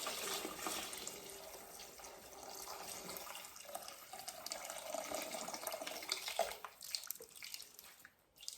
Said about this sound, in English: I have the rest of the hot water ready to go in.